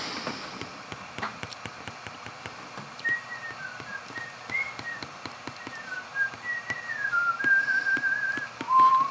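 A man whistles a wandering tune, thin and melodic, rising louder toward the end, with light tapping and knocking sounds underneath.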